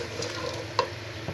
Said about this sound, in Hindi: अब हमने अच्छे से मसाला भूनना है।